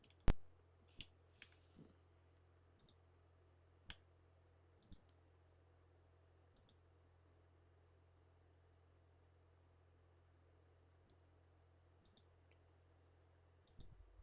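A computer clicks while Windows XP installs, sharp isolated ticks spaced irregularly a second or two apart over a low steady electrical hum, faint and close, with no talking.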